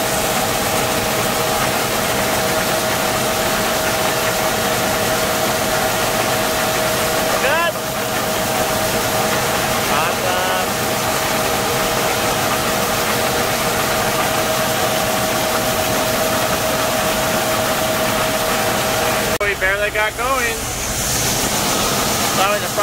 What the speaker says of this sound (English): this bag extractor is actually pulling my tractor backwards